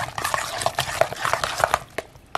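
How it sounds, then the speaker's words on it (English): Ricotta stuffed-shell filling is stirred in a bowl, a close run of wet, irregular squelching and scraping strokes with light utensil clicks against the side, with no talking. "I'm going to stir this around a little bit to get everything incorporated before I add the rest of my ingredients"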